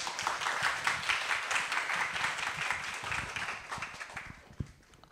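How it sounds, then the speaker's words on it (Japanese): A conference audience applauds a speaker coming on stage with dense, even clapping that gradually tapers off, ending in a few scattered claps and a soft thud. "拍手でお迎えください"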